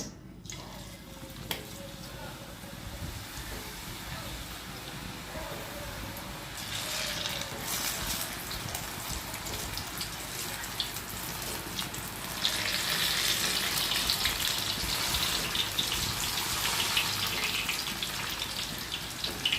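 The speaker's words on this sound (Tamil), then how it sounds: "நம்ம டேரெக்டாக எண்ணெய் சட்டிலேயே நம்ம அதை வந்து பிழிஞ்சு விட போகிறோம்" Pakoda batter pressed straight into a pan of hot oil fries with a steady, broad sizzle that swells louder partway through and stays dense and continuous, with no talk over it.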